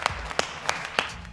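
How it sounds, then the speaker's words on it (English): An actor playing the Joker claps his hands slowly in a police station movie scene: four crisp, evenly spaced claps, close and distinct with quiet between them. "the actor suddenly started to clap his hands slowly"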